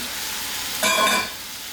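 Piping hot oil for homemade chili oil hisses steadily, then flares into a louder sizzle for a moment before settling back to a constant fry.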